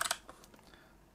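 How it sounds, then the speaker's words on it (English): Typing on a computer keyboard: a quick cluster of soft, close clicks, then a few scattered keystrokes fading into quiet. "open up your browser and type in the top"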